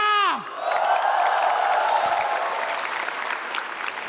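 A large stand-up comedy audience bursts into loud, sustained applause with scattered cheers, following a brief voice at the start.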